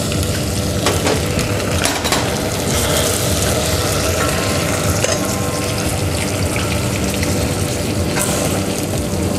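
Pieces of roast rabbit sizzle loudly in a pan just after blackberry vinegar is added, with a steady fierce frying hiss and occasional scrapes and clicks as the meat is stirred.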